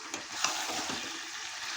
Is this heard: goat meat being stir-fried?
yes